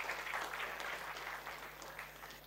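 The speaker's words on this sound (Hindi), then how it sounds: "शुभम के लिए ताली बजाओ यार" A small audience claps for a student in a classroom-style talk, a fairly quiet, uneven patter of hands with a few sharper claps over a faint background hum, no talk.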